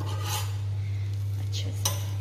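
A metal utensil clinks and scrapes in an oil-filled pan as food is pushed aside to cook, with a few brief, light knocks over a steady low stove hum.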